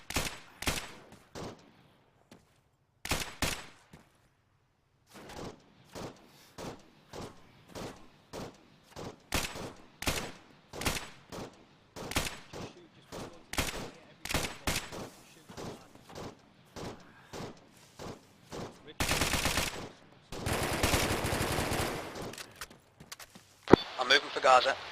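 Suppressive gunfire in the video game ArmA III, a long series of sharp rifle shots in irregular single cracks and short bursts, with heavier sustained fire near the end and voices talking over it.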